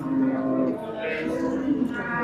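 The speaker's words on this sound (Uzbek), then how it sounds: "naves tagida ham sigirlar bor." A dairy cow at a busy cattle market gives a drawn-out, low moo lasting about two seconds, close and fairly loud, with crowd chatter mixed in beneath it.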